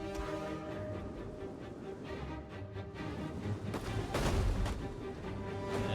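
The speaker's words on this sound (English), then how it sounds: "This explosive shot is really poor." A ballista's explosive shot in the strategy game Rome 2 Total War lands as a brief, fairly muffled crash-like burst, set against a busy, constant backdrop of battlefield noise.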